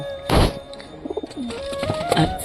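Pigeons coo in short throaty bursts close by, with a thump near the start and faint background hum, and no one talking.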